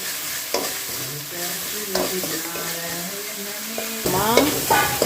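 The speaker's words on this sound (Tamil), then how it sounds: "ஆனியன் போட்ட உடனே லைட்டாக அதில் உப்பு போட்டிங்கன்னா ஆனியன் சீக்கிரமாக வதங்கிடும்" Onion sprinkled with salt sizzles in a pan for a quick milmaker kurma and is stirred with repeated scraping strokes. A continuous frying hiss runs close-up underneath, with no speech.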